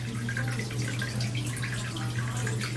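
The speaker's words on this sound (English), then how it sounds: "You can see I have my waterfall going." An indoor decorative waterfall in an office runs steadily, a soft continuous splashing and trickling over a constant low electrical hum.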